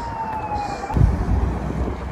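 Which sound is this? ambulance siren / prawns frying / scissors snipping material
ambulance siren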